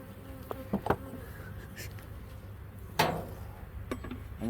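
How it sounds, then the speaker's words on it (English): A steady low insect hum of many honeybees buzzing close by at a hive, with a few sharp clicks and knocks scattered over the drone. "it looks like the amount of bees that are here is definitely what I want to see"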